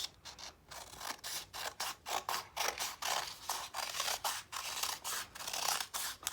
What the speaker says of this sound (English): I'm going to cut it into a heart